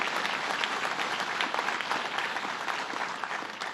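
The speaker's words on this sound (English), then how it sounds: "Let's give him a round of applause." Steady applause from an audience at a government training event, a dense, even patter of many hands clapping for a few seconds at moderate volume.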